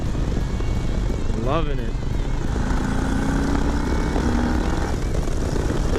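A 2020 Harley-Davidson Low Rider S at speed, its engine a steady droning roar under heavy wind rush, close and loud throughout, with the rider talking briefly over it.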